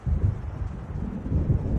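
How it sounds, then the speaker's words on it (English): Low, continuous stormy rumble of thunder and wind in the video game Alan Wake, steady and fairly loud throughout with no voices. "It seems there's a storm coming."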